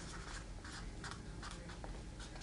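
A pen writes on a strip of scotch tape laid over crested gecko eggs, making continuous close scratchy strokes in short repeated bursts, quiet and without any talking.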